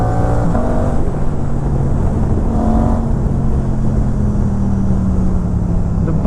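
A motorcycle fitted with a GPR Ghost full-system exhaust and DB killer installed drones loudly and steadily at cruising revs, a continuous close engine roar with slight pitch rises and no talking.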